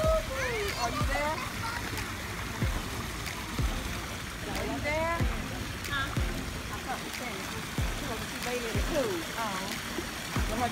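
Water splashes and sloshes repeatedly in a swimming pool, with swirling wet churning and chirpy voices mixed in close by.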